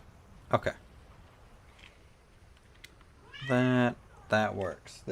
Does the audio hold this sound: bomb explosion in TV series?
no